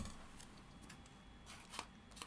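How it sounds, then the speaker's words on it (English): Scissors snip through folded paper, cutting a semicircle for a paper craft rose: a few short, crisp cuts close by, spaced unevenly and fairly quiet, with no talking. "So you take your scissors"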